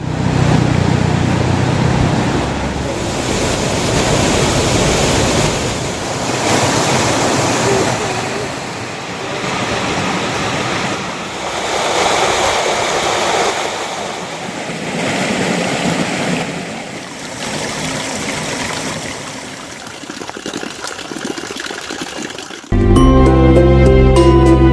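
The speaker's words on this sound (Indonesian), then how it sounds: "Selanjutnya kita akan menyeberangi sungai yang tepat di hadapan" A river flows through a forest as a loud, continuous rushing of water that swells and eases in waves, then gives way to a short burst of music at the very end.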